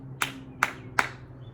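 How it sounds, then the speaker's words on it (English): Three sharp hand claps, evenly spaced and close, ring out crisply over a quiet background at the end of a kids' dynamic stretch workout. "we get 3 claps"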